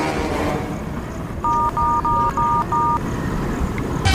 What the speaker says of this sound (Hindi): रुक जा मैं नरेन का फोन लगा थे